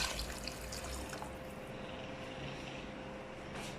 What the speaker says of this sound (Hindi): तो इसमें मैं 3 कप पानी डालूंगी